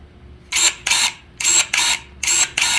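Six short, harsh mechanical bursts in pairs from 48V electric pruning shears, each a quick motorized snip with a brief pause between, close and fairly loud.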